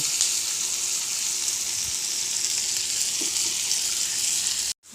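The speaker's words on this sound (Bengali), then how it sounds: "এবার পেঁয়াজগুলো লাল লাল করে একটু ভাজা করে নেব" Onions fry in a karai, a steady, fairly loud sizzle and crackle that runs unbroken before cutting off abruptly near the end.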